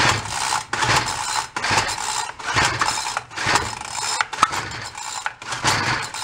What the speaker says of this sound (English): it feels like like you're winding up a spring